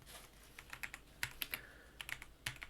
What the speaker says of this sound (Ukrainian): Пишемо ось таку командочку.